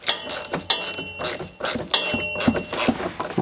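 Close, loud ratcheting clicks of a handbrake cable adjuster being tightened on a Renault Twingo during an inspection, in rapid bursts with brief pauses between strokes, no talking.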